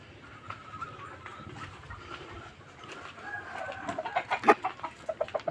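Chickens cluck in a poultry yard as a hen lays eggs, a soft rhythmic murmur building into a louder run of sharp, close clucks toward the end, with no talking.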